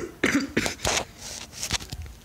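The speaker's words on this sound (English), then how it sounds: "if you hear me like coughing like that, that's why" A person coughs several times in short, sharp, close-up bursts, with brief pauses between the fits.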